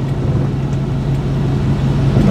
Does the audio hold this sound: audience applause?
no